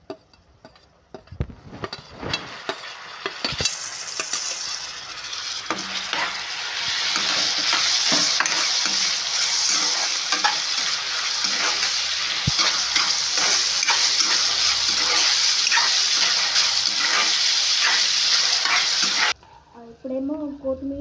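Onions and tomatoes fry in hot oil, a loud continuous close sizzle that builds after a few seconds of clatter, with scattered stirring clicks, then cuts out near the end.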